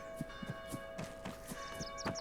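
Church bells in the Arma 3 game map Tanoa ring in a steady series of soft, repeated strikes, with a sustained tonal hum running underneath.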